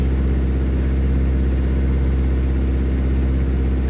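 A 1989 Geo Tracker engine idling at high RPM after a cold start, a steady close low rumble with constant droning texture throughout, no talking.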